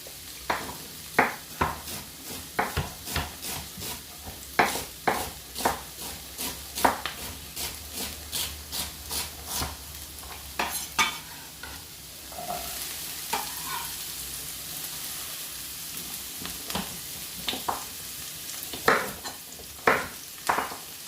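Chopped celery is put into a pot for vegetable soup and stirred, giving a steady sizzle of frying under a regular run of close, sharp spoon scrapes and knocks against the pot.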